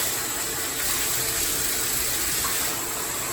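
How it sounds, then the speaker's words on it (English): Warm water from a tap runs steadily into a bathtub to rinse it while the tub is cleaned and etched before refinishing with a coating, making a loud, continuous gushing that fills the scene without any talk. "We're just going to put on the warm water."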